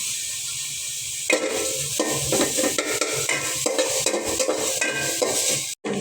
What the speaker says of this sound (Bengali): পোলাও তো দেবো, তার জন্য পেঁয়াজ ভেজে নিতে সেই পাতিলের মধ্যে